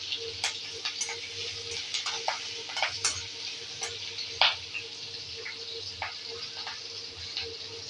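Green chillies sputtering in hot oil with cumin and asafoetida make a quiet, crackling fry close by, with frequent small pops and spoon scrapes and one louder clack midway.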